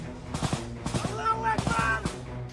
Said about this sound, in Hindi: ये लड़ाके मशीन गन से गोलियां बरसा रहे हैं।